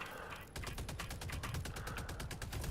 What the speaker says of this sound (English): I like to put my machine gun sentry right there